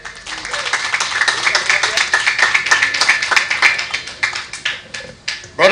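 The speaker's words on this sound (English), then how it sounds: "A round of applause for Mr. Bagan." An audience at a UNC local government political meeting in Arima claps, with sustained applause that rises and then tapers into scattered claps, loud and close, with no speech over it.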